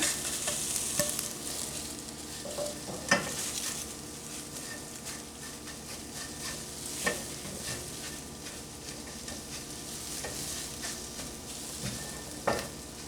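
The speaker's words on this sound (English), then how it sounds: "Scrambling the eggs right now." Eggs being scrambled in a frying pan for a breakfast burrito, a steady soft sizzle with occasional utensil scrapes and taps, close and fairly quiet.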